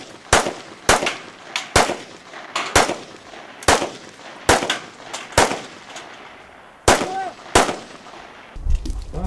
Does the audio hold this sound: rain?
no